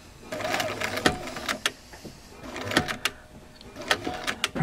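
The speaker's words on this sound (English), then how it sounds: "now I can go ahead and sew some more" A Bernina 930 sewing machine stitches close by in short stop-start bursts, its fast mechanical whirring and needle clatter pausing and resuming several times with light clicks between runs.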